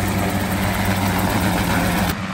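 A steady engine drone with a low rumble and rhythmic throb as a CH-77 Ranabot personal helicopter starts and winds up, cutting off abruptly near the end.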